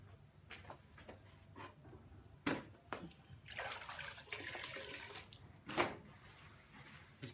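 Hot soapy water from a bucket and rag splashing and sloshing over a greasy outdoor BBQ as it is wetted down, in a few close, uneven bursts of splashing and trickling.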